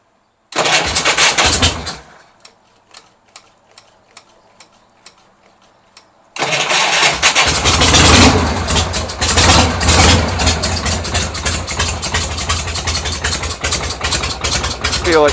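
A Harley Superglide Shovelhead motorcycle with a leaking head gasket cranks, catches briefly and dies with a few ticks, then starts and settles into a loud, close, lumpy idle with a rapid uneven beat.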